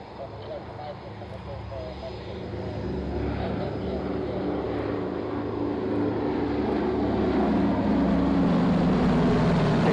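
An airplane accelerates for takeoff on runway 27, a broad engine roar that steadily builds in loudness over the whole stretch, with radio chatter faintly underneath.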